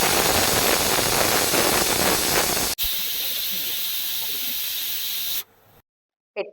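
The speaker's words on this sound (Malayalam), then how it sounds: "ആവി വന്നപ്പോൾ വിസിലിട്ട് കൊടുത്തു. ഇനി ഇതൊരു 8 വിസിലടിക്കണം" A pressure cooker on a gas stove cooking chana releases loud, continuous hissing steam through its whistle, a sustained blast that shifts in tone midway and then cuts off abruptly, followed by a brief short burst.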